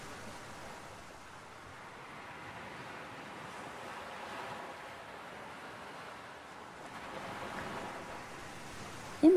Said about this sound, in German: Immer noch plätschert im Hintergrund das Wasser von den weiten Sandstränden